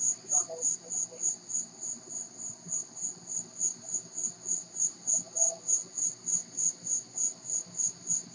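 Crickets chirp in a steady, evenly pulsing rhythm that stays loud and continuous throughout, with faint distant background noise beneath.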